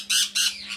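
Parrots squawk at a new, cheap homemade enrichment toy, giving two loud harsh calls in quick succession with a weaker call trailing after, with no talking over them.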